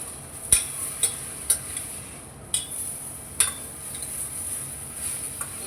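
A spoon scrapes and taps against a pan as vegetables are stirred while cooking, giving a quiet steady hiss broken by sharp clinks at a slow, uneven rhythm.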